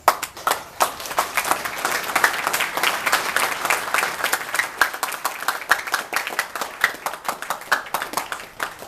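An audience at an anniversary event for the Persada Studi Klub poetry community applauds, dense rapid clapping that thins into scattered individual claps with a few sharper bursts toward the end, with no talking over it.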